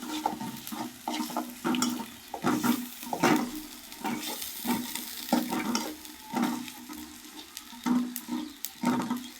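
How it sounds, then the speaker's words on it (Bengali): Coriander powder frying in a pan for a vegetarian dish, with a rhythmic series of stirring scrapes and clinks over a soft, continuous sizzle, close and fairly loud. "ধনিয়া গুঁড়োটা দিয়ে একটু ভাজা করবো"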